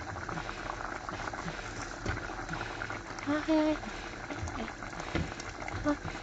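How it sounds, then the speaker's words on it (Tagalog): Pot of French beans, sweet corn and cabbage simmering at a boil: a continuous low bubbling and burbling, fairly quiet and close, with a few brief clinks and faint voices mixed in. "leave it to simmer for 2 to 3 minutes"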